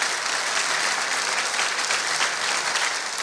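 A church congregation at a pastors' retreat breaks into loud, dense applause, a continuous roar of many hands clapping close by, unbroken and even for a few seconds.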